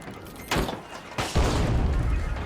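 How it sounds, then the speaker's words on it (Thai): Grenades explode in the shooter video game The Finals. Two sharp, booming blasts land about a second apart, and the second rolls into a sustained rumble. "โยนระเบิดไว้ก่อน"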